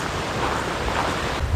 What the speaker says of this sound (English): with the wind blowing, it feels like it's in the mid 60s